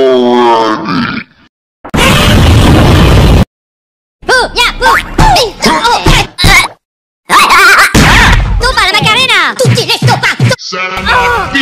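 A cartoon bomb goes off in a Minions cartoon as a loud, harsh burst of noise. It is set among comic grunts, groans and shouted voices, with a second blast-like burst later.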